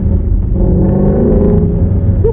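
Shelby GT350 engine running while driving in Las Vegas, a loud, steady, deep rumble with a throaty burble heard from inside the car.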